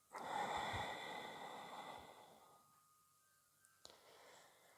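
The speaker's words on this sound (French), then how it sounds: "Et j'expire la colère," A slow, breathy exhale during a guided breathing exercise, a soft airy rush that fades over a couple of seconds, followed by quiet and a faint click.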